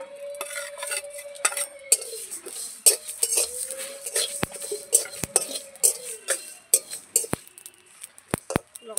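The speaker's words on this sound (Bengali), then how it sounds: "ভেজে নেব শুকনো লঙ্কা 2টো মুচমুচে করে" Dry red chillies and spices crackle in a wok while a spatula scrapes and clinks against the metal in irregular bursts, with a low hum and a faint murmur of voice now and then.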